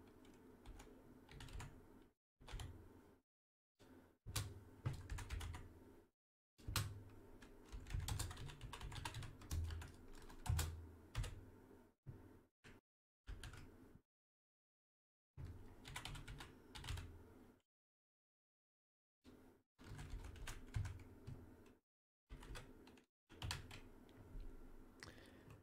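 Computer keyboard typing while entering commands into a Windows command prompt, with bursts of close, brisk key clicks broken by short pauses and several silent gaps.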